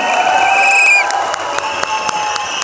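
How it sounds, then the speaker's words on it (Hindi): An audience at a youth leaders' event in Ahmedabad applauds and cheers as names are called to the stage, lively clapping with bright whistle-like tones and crowd noise, loud and close. "आपकी तालियां रुके ना"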